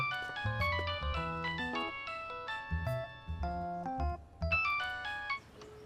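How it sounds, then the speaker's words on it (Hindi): A phone ringtone plays alone, a bright melodic chiming tune of repeated rising note patterns, loud and close, with no talk over it. "ये किसी को फोन कर रही है।"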